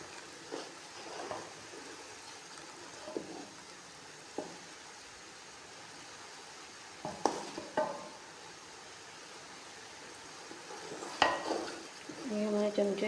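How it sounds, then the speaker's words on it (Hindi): Rice being added to simmering sugar syrup in a pot for sweet zarda rice, with a soft steady bubbling sizzle and occasional scrapes and clinks of a spoon against the pot, close and fairly quiet. "फिर इसके अंदर ये चावल डालेंगे।"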